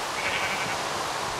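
Sheep bleating in Minecraft, a steady mid-pitched bleat held for over a second beneath a constant soft background wash, moderately loud with no talk.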